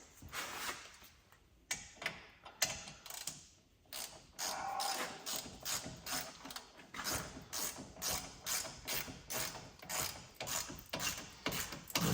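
An ICON G2 ratchet clicks rapidly in repeated bursts while tightening front hub bolts on a 2017 Chevy Equinox during a front hub replacement, close up and fairly quiet, with short pauses between runs.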